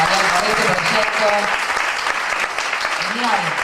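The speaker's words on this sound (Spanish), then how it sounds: "los fuertes aplausos por este proyecto" An audience at a campaign launch event applauds loudly, a steady dense clatter of clapping hands that runs throughout, with a voice speaking over it now and then.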